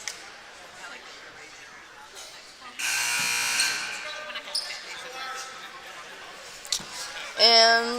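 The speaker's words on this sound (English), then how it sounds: "And that is the final buzzer." The final buzzer sounds at an eighth-grade girls basketball game, a loud harsh tone lasting about a second over the crowd noise of the gym, with voices and squeaks around it.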